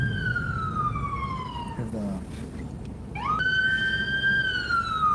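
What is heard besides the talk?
ambulance siren in city traffic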